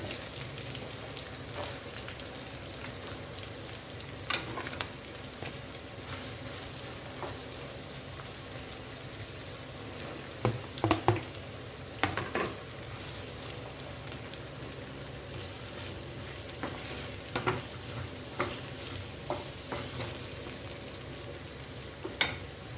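Vegetables for veg pulao sizzle and crackle steadily in hot oil in a pan, with occasional sharper pops and clinks of stirring, a continuous moderate frying hiss throughout with no talk.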